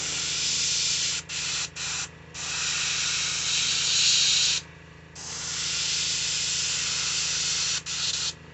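Spray gun painting a Lucky Strike Hail Mary lure in steady airy hissing bursts, several long sprays broken by short pauses, close and loud with no talking.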